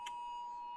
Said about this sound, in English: What's my new text message sound?